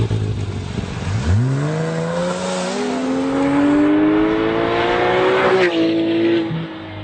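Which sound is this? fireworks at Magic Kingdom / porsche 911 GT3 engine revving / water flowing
porsche 911 GT3 engine revving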